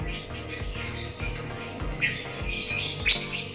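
A female pet bird gives a sharp, brief squawk near the end, close by, over a background of music and soft chatter.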